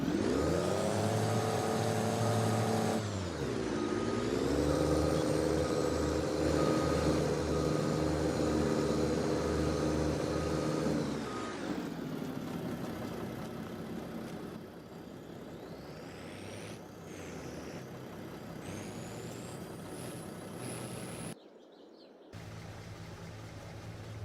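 Truck engine revving hard and steady while stuck on a farm map in a farming game, a loud droning tone that dips and climbs again, then eases to a lower rumble before a brief cut.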